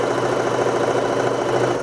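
A sewing machine runs steadily, stitching elastic across a women's size sleeve to gather it, with a continuous close mechanical whir and a rapid needle rhythm throughout.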